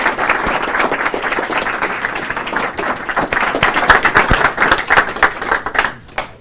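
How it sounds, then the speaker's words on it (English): An audience gives Professor Bell a round of applause at a radio astronomy lecture, dense steady clapping from a crowded hall that swells and then fades out over several seconds. "let's have a round of applause for Professor Bell."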